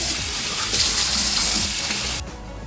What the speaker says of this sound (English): And then rinse it out.